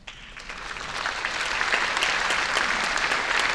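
Applause from a community show band concert audience following a jazz standard, building from a quiet start into a full, steady wash of clapping.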